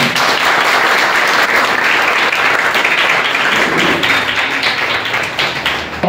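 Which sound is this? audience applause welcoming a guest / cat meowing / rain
audience applause welcoming a guest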